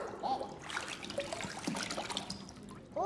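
Water trickles from a bottle into a bucket, a faint, uneven dribble with small splashes and a few brief squeaky tones scattered through it, heard close and quiet.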